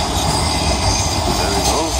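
Metrolink tram pulling away from Eccles town centre toward Manchester, a loud close rumble of wheels on rail with squealing, continuous throughout.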